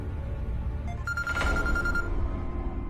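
A telephone rings once as a short, faint electronic tone over low background hum and murmur.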